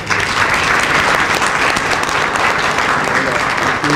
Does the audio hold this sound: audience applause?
yes